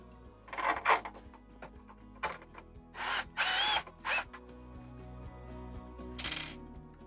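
A power drill drives screws while a noise-reduction kit is fitted to a Furrion RV air conditioner, sounding several short, separate whirring bursts of varied length over a quiet, low steady hum.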